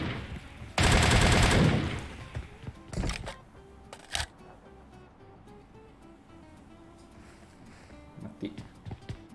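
A loud burst of rapid gunfire in a game, followed by scattered sharper shots and faint background noise.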